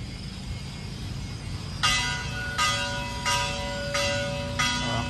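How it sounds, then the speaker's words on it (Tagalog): A church bell rings from the plaza at Silay City, calling the faithful to 6 AM mass, five even strokes about 0.7 seconds apart starting a couple of seconds in, each with a bright, lingering ring over a steady background hum. "nag bell na ang simbahan kay may misa na rin siya 6 AM"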